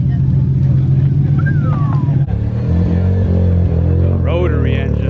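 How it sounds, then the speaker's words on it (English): A Mazda RX-7 with a rotary engine at a cars and coffee meet, its loud, close idle burbling with a steady pulsing rhythm, then a rev that shifts the engine note. "Can't ever go wrong with an RX-7"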